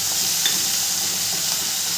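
Garlic and ginger paste frying with masala in a pan for Bengali egg curry, a dense continuous sizzle and hiss, close and even throughout, with faint stirring underneath and no talking.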